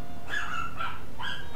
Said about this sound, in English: You can hear my dogs outside.